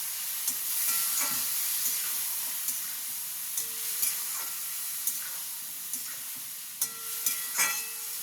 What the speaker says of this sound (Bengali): এবার এটাতে অল্প একটু জল দেব, মানে মশলা পড়ে যাবে। দিয়ে এটাকে কষবো